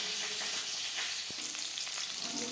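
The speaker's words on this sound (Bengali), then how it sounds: "মাছ ভেজে নেওয়া তেলে দিয়ে দিলাম কালো জিরে চেরা কাঁচা লঙ্কা" Nigella seeds and slit green chilies fry in oil left over from frying puti fish, giving a steady close hiss with a few small pops, no voice.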